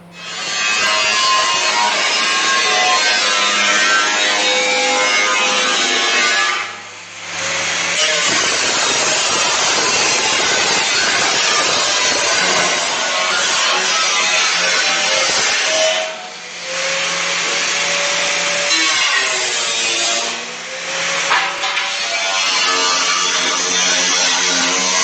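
A power cutting tool trims a replacement floor pan on a classic car, a loud continuous harsh grinding whine near at hand, pausing briefly a few times before resuming.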